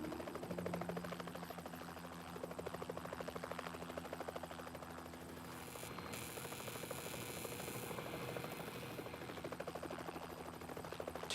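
A helicopter hovers near power lines, its steady rotor drone holding throughout, a constant chopping hum at moderate distance with no voices.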